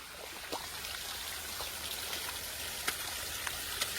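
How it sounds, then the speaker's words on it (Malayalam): Soft, steady patter of light rain with scattered drops tapping nearby, faint and continuous throughout. "നല്ല മഴ വരുന്നുണ്ട് ചാറുണ്ട് മഴ ഇങ്ങനെ പെയ്യുന്നുണ്ട്"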